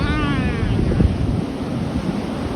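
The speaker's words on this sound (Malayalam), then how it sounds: "വലിയൊരു സുനാമിന്റെ തിരമാല വരുന്നുണ്ട്" Ocean waves wash steadily onto a beach in a continuous broadband roar, with wind buffeting the microphone throughout.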